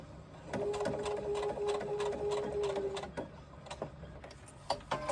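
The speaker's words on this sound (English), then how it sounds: "Now baste down the edge. And this will stitch both layers together." A sewing machine basting and stitching two fabric layers together along an edge, a fast buzzing run for about three seconds with a steady whine, then a few short bursts and stops.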